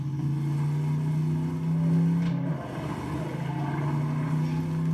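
A car drives in the video game Borderlands 3, its engine a steady, moderately loud hum that briefly swells and dips around midway before settling back to an even drone.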